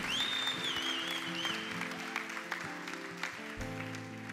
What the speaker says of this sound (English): can we give those people one more massive round of applause?